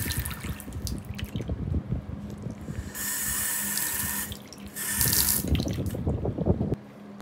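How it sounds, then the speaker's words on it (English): Water gushes from a motel bathroom sink tap and splashes loudly into the basin, running steadily for several seconds with dripping and sloshing around it. "when you turn the water on, it kind of splashes out of the sink"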